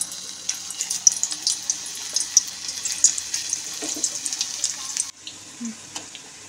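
Banana slices fry in oil for chips with a steady, dense sizzle, quick crackles and bubbling throughout. The frying continues more softly after a brief drop near the end.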